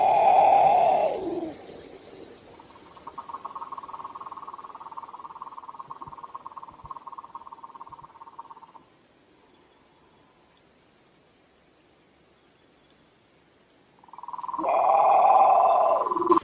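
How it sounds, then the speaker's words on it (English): A great potoo gives a loud, harsh, moaning call that slides downward, first at the start and again near the end. A quieter steady tone fills the gap between the two calls, and no voices are heard. "This is the sound of a great Potu."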